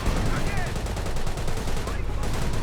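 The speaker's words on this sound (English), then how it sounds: "Panzer's firing away as well as a Panzer Faust" World War II battle in Company of Heroes with a Panzer tank and a Panzerfaust firing amid constant rattling machine-gun bursts and booming shots, a loud unbroken barrage with a voice talking over it.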